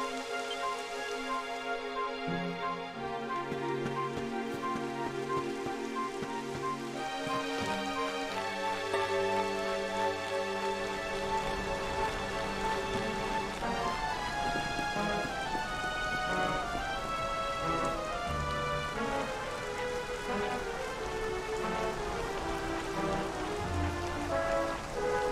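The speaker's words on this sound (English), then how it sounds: "It would have to go and start raining, wouldn't it?" Rain begins falling in the game Dragon Quest XI, a steady patter of drops on surfaces spreading under a gentle tonal game score, constant and moderately soft throughout.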